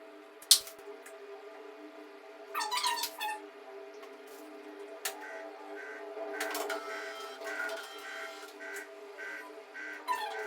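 A newly set up office printer runs faintly with a low hum, broken by intermittent mechanical clicks, squeaks and feeding bursts that grow busier and more rhythmic toward the end.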